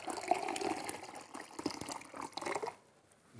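Hot water pours steadily into a cup while setting up a simple homemade fermentation incubation cabinet, a continuous close liquid splash and gush that fades out near the end, with no talking.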